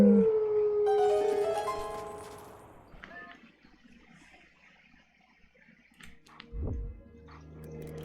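A wolf in Twilight Princess howls the Song of Healing at a Howling Stone, a tonal, melodic howl sliding through several sustained notes over the first few seconds, then fading into quieter game sounds and a dull thump.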